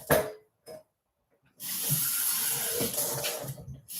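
Water poured from a tap into a bowl sitting on a kitchen scale, a steady hissing splash starting after a couple of short clicks and running on for a few seconds, close and fairly loud.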